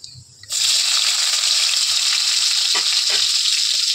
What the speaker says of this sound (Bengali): তখন আমি পেঁয়াজ কুচিটা এর মধ্যে দিয়ে দেবো